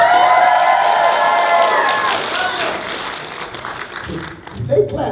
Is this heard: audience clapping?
yes